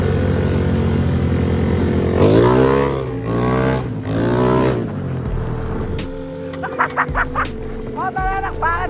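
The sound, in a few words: motorcycle engine running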